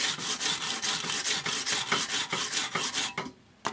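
A knife edge drawn across a finer grit abrasive makes steady, close rasping strokes in a quick back-and-forth rhythm, fairly loud, ending in a brief pause and one last scrape.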